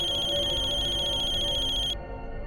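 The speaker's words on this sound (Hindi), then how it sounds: "फोन उठाओ वीरेन" Mobile phone ringtone ringing in a crime drama scene, a steady electronic tone held loud and close before cutting off abruptly, leaving a low background.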